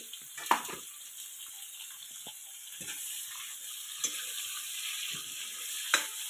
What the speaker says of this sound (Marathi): आधी कांदा भाजायला लागतंय